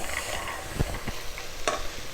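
Washed chickpeas are stirred into a pan of roasted ground masala for Kerala kadala curry, producing soft scraping and gentle sizzling with a couple of sharper spoon knocks against the pan, close and alone.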